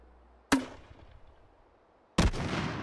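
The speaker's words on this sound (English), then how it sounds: "Let's try to aim this thing now" A grenade launcher fires in Hot Dogs, Horseshoes & Hand Grenades, a VR game. Two loud, sharp blasts come well apart, each trailing off into a lingering rumble, with no voices.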